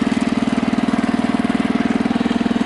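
A Husky 600 engine runs steadily while backing down a driveway, a loud, even, fast-pulsing mechanical chug with a strong low hum and no talk.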